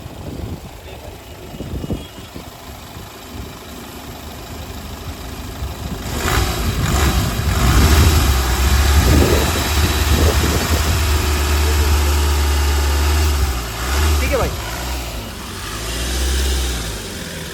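A 2018 Hyundai Verna 1.6 SX diesel automatic idles, then its engine is revved with the accelerator, rising into a loud, deep swell that holds and eases back, close by.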